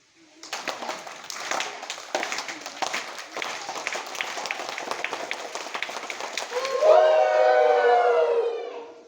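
A classroom of primary school pupils repeats a rhythmic 'train clap', quick regular hand claps in unison mimicking a train's chug. The clapping finishes with the children's voices together imitating a rising, sustained train whistle.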